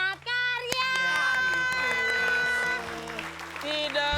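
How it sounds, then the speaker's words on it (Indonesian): An audience at an Indonesian Betawi comedy show claps and cheers loudly for a few seconds while voices talk over it, with music playing in the background. "Terima kasih tepuk tangan buat Padat Karya."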